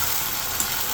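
Chili paste fries in a pan with a dense, steady sizzle that stays level for a moment, with a faint stir or tap partway through.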